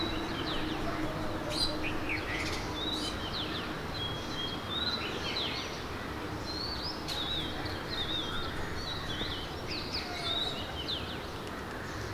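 House sparrows, a male among them, chirp and squabble nearby in a rapid overlapping chatter of short sharp calls over a steady background hiss.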